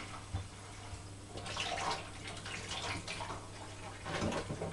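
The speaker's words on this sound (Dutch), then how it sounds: "Ik spoel de rode bieten even onder de kraan nog wat beter schoon." Running kitchen tap water splashing over red beets as they are rinsed clean, a continuous close splash with fluctuating bursts and knocks as the vegetables are moved under the stream.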